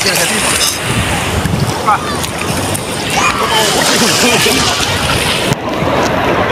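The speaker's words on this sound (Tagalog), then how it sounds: "Ang laki guys ng alon." Loud, constant rush of ocean surf and splashing water from big waves at sunset, with heavy wind buffeting the microphone, nearly unbroken throughout.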